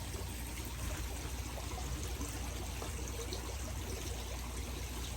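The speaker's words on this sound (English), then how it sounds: "Now the water is now drained and there's a lot of debris." Water draining from a crayfish pond through a bell siphon, a continuous close rushing pour and trickle with no pauses, loud and even throughout.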